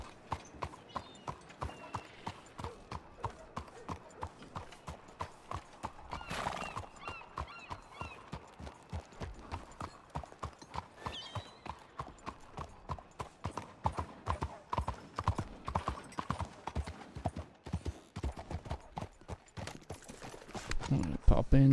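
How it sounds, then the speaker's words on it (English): Horse hooves clip-clopping steadily on ground, faint and moderately close, with a whinny and a voice talking over the rhythmic steps. "Horse coming through and it's bigger than you are."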